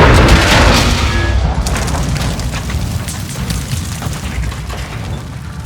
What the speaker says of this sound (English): We blow up his tank and kill Graves.